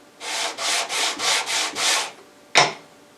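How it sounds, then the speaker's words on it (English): An LMI brace sander radiuses a wooden guitar brace with six even, rhythmic rubbing strokes, up close and loud, followed by one sharp scraping swipe. "The LMI brace sander is so easy to use that the brace will almost radius itself."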